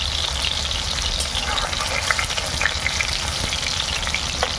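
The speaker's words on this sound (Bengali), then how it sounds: "পেঁপেটা একটু ভেজে নিচ্ছি হালকা।" Papaya pieces sizzle as they lightly fry in hot oil in a village-style kitchen while labra curry vegetables are prepared, giving a steady, close, dense crackle throughout.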